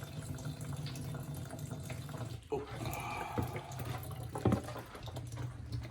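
Water running through a home water filter, a continuous close trickle and splash with a brief interruption midway and a few louder gurgles, no talking.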